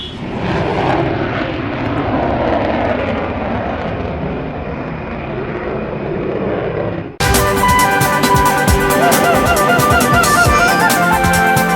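A Tejas fighter jet flying at the Aero India show, its loud, sustained engine roar filling the air for several seconds before cutting abruptly to music.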